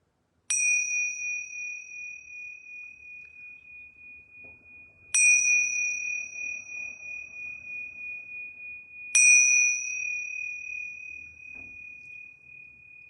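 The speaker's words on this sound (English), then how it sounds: "I'm going to ring these yoga bells 3 times." Yoga bells struck three times in a quiet studio, each a bright, clear ding that rings out and slowly decays before the next strike, spaced about four to five seconds apart with near silence between.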